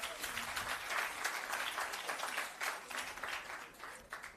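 Crowd applause for the assessment team at a shelter recovery programme handover ceremony, steady dense clapping throughout with a faint murmur of voices mixed in.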